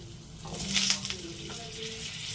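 Potato, papaya, drumstick and green banana frying in oil in a pan for shukto, a soft crackling sizzle with faint clinks and stirring, fairly quiet and steady.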